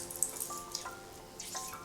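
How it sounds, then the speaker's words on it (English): Water drips and trickles in short wet bursts as rehydrated mushrooms are squeezed out, a few small splashes and dribbles close by, with no talking. "we squeeze out as much of the juice as we can"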